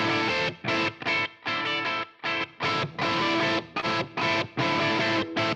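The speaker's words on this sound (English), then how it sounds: "So distortion or drive, this is what it does." A music track played through a distortion or drive effect, dense and gritty sustained chords chopped into rhythmic bursts with short silent gaps, loud and close with no talking.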